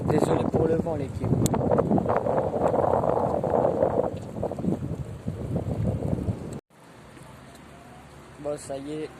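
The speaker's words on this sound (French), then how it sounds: "Désolé pour le vent, l'équipe." Wind buffets the microphone with loud rumbling gusts by the sea near La Rochelle while someone talks, then cuts out abruptly, leaving quieter outdoor ambience and a few voices.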